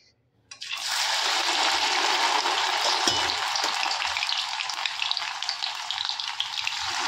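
Raw banana pieces drop into hot oil and burst into a loud, steady, close sizzle that holds for several seconds, with faint crackles and no voices.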